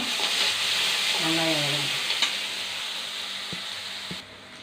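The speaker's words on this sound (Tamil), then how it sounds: "வெங்காயம் நல்லா வதங்கணும்" Chopped onions sauté in a pan with mustard seeds and a green chilli for okra poriyal, giving a steady broadband sizzle with a brief voice fragment partway through and a few soft utensil taps near the end.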